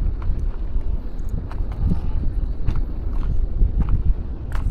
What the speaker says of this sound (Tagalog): Medyo may mahangin dito guys.